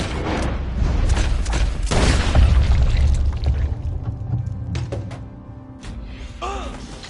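Gunfire in Red Dead Redemption 2 booms loud and close, with several sharp blasts over a low rumbling bed that fades toward quieter clicks and small noises at the end.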